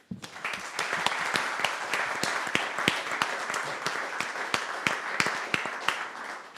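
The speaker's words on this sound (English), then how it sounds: "So thank you to that whole team, and give you a round of applause." A wrap-up session audience gives a round of applause, a moderately loud spread of clapping with distinct sharp individual claps standing out, sustained for several seconds.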